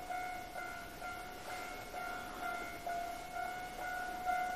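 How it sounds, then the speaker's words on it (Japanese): A train runs steadily past at a distance near a reputed haunted former military hospital in Kyoto, its sustained rumble carrying faint tonal whines with a gently pulsing level and no talking. "この目当ての電車が来たんですかね。"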